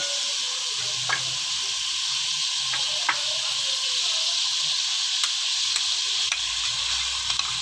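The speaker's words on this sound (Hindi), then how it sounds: "2 से 3 मिनट हमने इसको फ्राई करना है।" Chicken frying in a karahi pan for achari chicken karahi: a steady, bright sizzle runs throughout, with occasional sharp clicks and scrapes of a utensil stirring against the metal pan. No voices.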